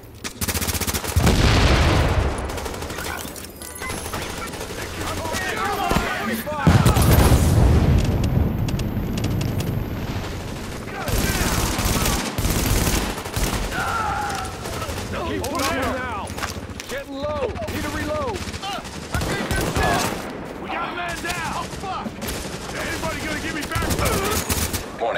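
Rapid bursts of automatic gunfire ring out in The Division during a high-value-target fight, loud and close, recurring through the firefight while voices talk and shout over it.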